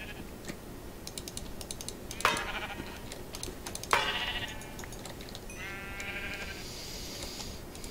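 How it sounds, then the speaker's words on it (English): A sheep bleats twice in short, wavering cries, then once more faintly, over soft keyboard clicking and quiet background hum. "Oh, there's a sheep in there."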